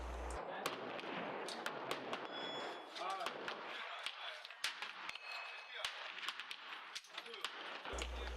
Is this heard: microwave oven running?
no